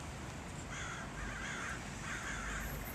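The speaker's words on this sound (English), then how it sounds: "I love the crows, guys." Crows cawing in harsh repeated calls at a train station in the Los Angeles area, moderately distant over a steady wash of outdoor background noise.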